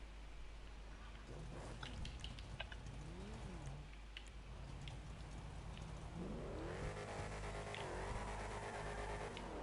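A modded car in GTA Online revs its engine in rising and falling sweeps, quieter at first and then louder and busier, over a steady low background hum.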